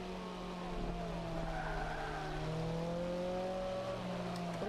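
A car in the Forza 5 racing game brakes hard and skids. A long, steady tyre squeal rides over a droning engine tone, all fairly quiet and with no voices.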